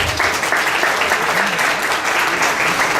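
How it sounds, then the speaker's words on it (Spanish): An audience at a panel event on risk management applauds in a steady, even wash of clapping that carries through without pause, with faint voices beneath. "Un aplauso, gracias."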